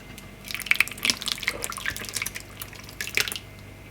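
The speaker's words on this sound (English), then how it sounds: "So now the sauce just pours over." Sauce pours over lamb and onions in a slow cooker pot, a soft, close liquid glugging and splashing that runs for a few seconds with faint drips and no talk.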